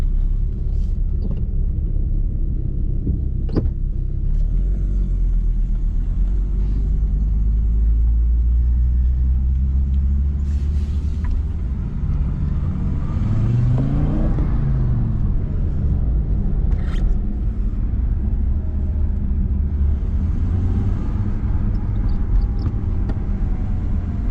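An Audi Coupe engine idling after its first start in over a year, a steady close low rumble running throughout with a slight rise and fall in pitch around the middle.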